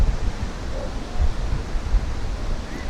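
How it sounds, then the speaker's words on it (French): Wind blowing outdoors along a riverside cycle path, a continuous broadband rush buffeting the microphone with low rumbling gusts that swell and ease, with no talking. "Oh le vent"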